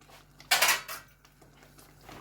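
A metal lid set onto a pan of chilli peanut chicken with onion and garlic simmering on low heat, one bright clattering clank followed by a brief rattle, close and loud, then quiet.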